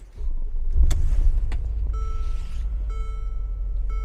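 A 2016 Mercedes G550 with a 4-liter bi-turbo V8 fires up with a quick starter catch, then settles into a deep, steady idle rumble heard close by, with a couple of faint clicks and a soft chime over it.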